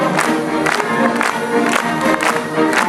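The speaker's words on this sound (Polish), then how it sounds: "I oklaski, drodzy Państwo." Applause from a concert audience at a New Year's concert, a dense, steady wash of clapping with rhythmic swells that sounds like a large hall clapping in time, loud and close.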